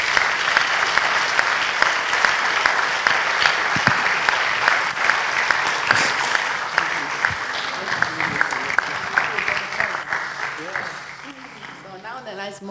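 Sustained applause at a mathematics education conference plenary honouring Markku and Christina, dense steady clapping filling the room for about twelve seconds before thinning out, with a voice beginning to speak near the end.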